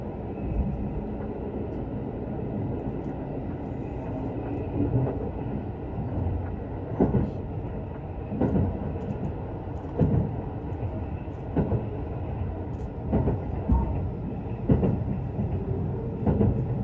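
Shirasagi limited express train running on the line from Nagoya toward Kanazawa, a loud steady interior rumble with rhythmic clickety-clack wheel beats over rail joints recurring every second or so.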